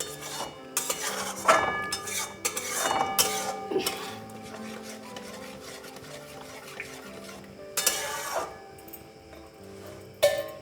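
Fish being stirred in a pan on the stove gives intermittent bursts of scraping and rubbing with a light sizzle, separated by quieter stretches over a faint steady tonal hum.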